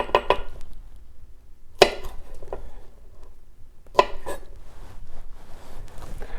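Knife trimming the ends off green onion on a cutting board: a few sharp, isolated chops with long quiet gaps between them, close by and with no talking.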